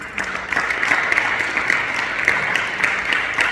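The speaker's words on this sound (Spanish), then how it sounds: "Denle un aplauso al Señor." A church congregation claps together during a Sunday service, a steady bright wash of many hands applauding with faint rhythmic accents and no voices on top.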